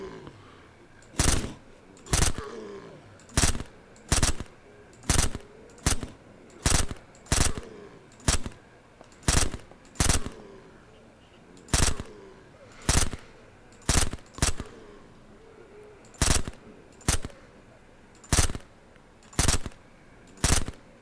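A gun fires in the game SurrounDead, about twenty loud single shots spaced at a steady, slightly uneven rhythm with quiet gaps between them.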